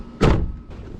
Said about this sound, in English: close and lock all doors